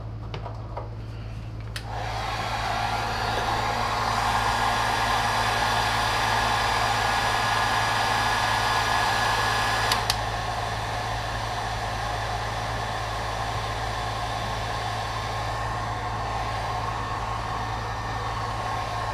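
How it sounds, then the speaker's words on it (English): Steady whooshing roar of a heat gun warming the glue on sound-deadening material inside a SEBO Airbelt C3.1 canister vacuum cleaner, starting after a brief quiet moment and holding loud and even with no talk. "I'm gonna go get a heat gun."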